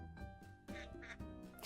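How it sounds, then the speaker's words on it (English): A duck quacks in a short series of nasal calls, faint and set against a busy background with a musical, tonal texture. "Quack, quack."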